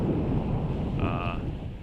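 Low, rumbling wind buffets the microphone throughout on a sailboat at sea, a steady roar with a brief faint tone in the middle.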